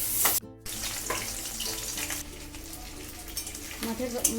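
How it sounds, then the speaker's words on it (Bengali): Fish heads fry in hot mustard oil in a pan, giving a loud, close, continuous sizzle and crackle broken by a brief dropout, then some faint clinks and stirring. "মাছের মাথাটা আমার ভাজা হয়ে গেছে"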